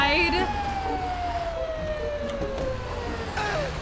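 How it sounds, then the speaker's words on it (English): A fire truck siren in the video game GTA V wails with a slowly falling tone, loud and near over engine rumble, with brief clatter near the end. "How do I turn the sirens off?"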